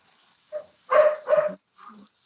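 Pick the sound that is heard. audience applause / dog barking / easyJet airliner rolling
dog barking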